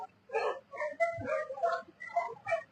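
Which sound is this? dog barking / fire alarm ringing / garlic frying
dog barking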